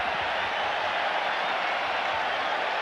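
Packers stadium crowd at Green Bay roars to jam the Philadelphia Eagles' signals on Monday night, a broad, sustained wall of distant crowd noise with no break.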